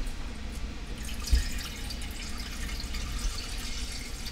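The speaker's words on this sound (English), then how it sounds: "we're going ahead and getting the water here." Water runs steadily from a kitchen tap into a pan for boiling angel hair spaghetti, a continuous close hiss and splash with one small clunk near the start.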